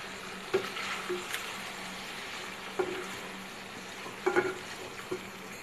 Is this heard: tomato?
yes